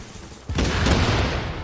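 A grenade goes off in the video game The Division as one sudden loud boom, followed by a rough rumbling tail that fades slowly, with no talking over it.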